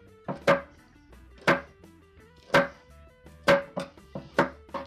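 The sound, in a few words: slicing vegetables with a knife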